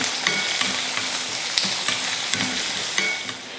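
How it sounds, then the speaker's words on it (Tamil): A big onion sautés in hot oil with cumin, dried chillies and garlic, a steady close sizzle broken by a few sharp pops and scrapes of stirring. "அப்புறம் ஒரு பெரிய வெங்காயம். இப்போ இதை வதக்கிடலாம்."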